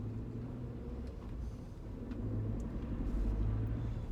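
A 2019 Suzuki Jimny with only about 500 miles on it drives through town on a sunny day, its low engine rumble steady and close, swelling slightly as it pulls harder, with no voices over it.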